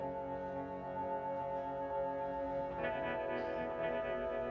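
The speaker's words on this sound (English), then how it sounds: "I like the guitar with the reverb." Reverb-soaked guitar from an album track, a dense sustained drone of layered tones with washing echo, steady and full throughout without pauses.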